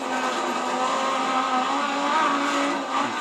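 A rally car engine roars loud and steady from a far external view in the video game Dirt 3 on a Finland stage, a continuous high-pitched drone with no talking.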